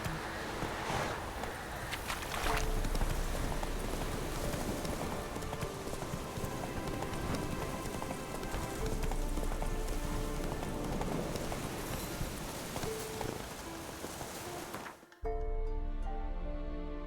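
A horse gallops in The Witcher 3 video game, rapid rhythmic hoofbeats pounding steadily and close, briefly cut before resuming near the end.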